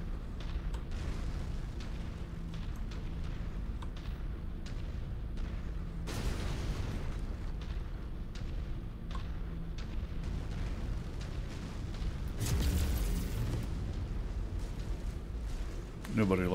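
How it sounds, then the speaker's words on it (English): Artillery shells exploding in MechWarrior 5, deep booms and rumbling blasts breaking over a continuous battle din, with a voice talking at times. "Nobody likes artillery."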